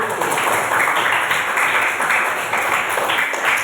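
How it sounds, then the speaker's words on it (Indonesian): Children clapping together in a classroom during a teacher's lesson: brisk, fairly rhythmic hand claps repeat in steady bursts, close and bright, with no talking over them. "Luar biasa, tepuk tangan dulu."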